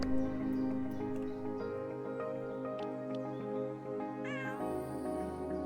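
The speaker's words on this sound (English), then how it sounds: "Oh, that was a cat." A cat meows in a video game, a drawn-out wavering call over steady game music, with a second rising cry near the end.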